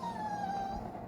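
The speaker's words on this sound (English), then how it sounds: "Excuse my dog." A dog whimpers in a craft room, a thin high whine that glides slowly downward, faint and steady over quiet room tone.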